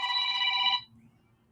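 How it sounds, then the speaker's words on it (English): A phone rings with a bright electronic trill that holds steadily for under a second, then cuts off, leaving a faint low hum. "Oh, excuse my phone ringing."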